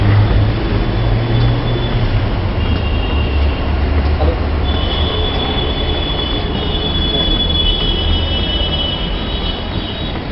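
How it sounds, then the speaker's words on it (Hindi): Steady rumble of a Delhi Metro train in motion, heading to Chandni Chowk, with rail noise and faint high squeals throughout, loud and continuous, with a few voices faintly underneath. "आज मेट्रो की सवारी, चांदनी चौक जा रहा हूँ मैं"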